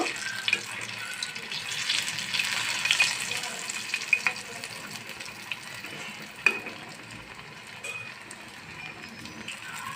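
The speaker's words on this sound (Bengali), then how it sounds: "এই পাকুড়াটা ভাজার সময় চুলা রাসটা মিডিয়াম টু লো আঁচে রাখতে হবে" Shrimp pakoras fry in a pan over medium-low heat, making a soft, fairly quiet bubbling sizzle broken by occasional sharp crackles and pops.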